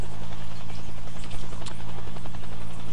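Helicopter in the video game Arma 2 flying close by, a steady loud rotor drone with low thumping beat running throughout, no talk over it.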